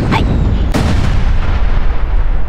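Weapon fire in the game Worms Reloaded: two loud booming shots close together near the start, followed by a long rumbling decay that fills the rest.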